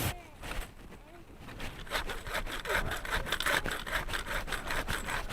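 A KOPIS-ARSENAL hatchet multitool's folding saw cutting through a wood branch outdoors, with rapid rhythmic back-and-forth rasping strokes, close and fairly loud throughout.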